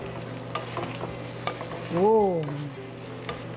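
Pork sisig with green chili pepper being stir-fried: a steady sizzle and the scrape of stirring in the pan, with a brief whooshing swell in the middle. A voice calls out a single word.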